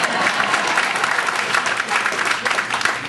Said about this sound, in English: How about giving Dave a round of applause